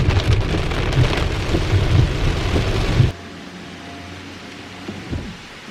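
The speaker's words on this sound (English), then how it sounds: "when I said moderate rain, I meant moderate rain" Moderate rain falls as a loud, dense, steady hiss for about three seconds, then abruptly drops to a much quieter patter with a low rumble underneath.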